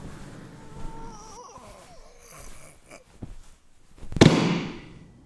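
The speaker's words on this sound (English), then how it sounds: "I wish the gunshot was a bit louder." A short film's toy gun fires a single sharp gunshot bang that bursts out loudly near the end and trails off quickly, following a stretch of quiet, faint rustling sounds.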